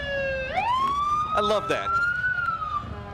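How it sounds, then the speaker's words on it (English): Police motorcycle siren wailing upward and holding at a parade for Cincinnati Reds Opening Day, loud and close over street noise, with brief talk in the middle. "You can hear them loud and proud running those sirens."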